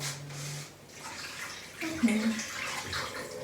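Water poured in a home kitchen while making tolma, a loud splashing stream that rises into a brief ringing fill toward the middle before carrying on steadily.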